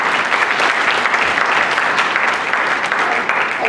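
An audience at a school district board of education meeting bursts into sustained loud applause, thick continuous clapping that fills the room for several seconds.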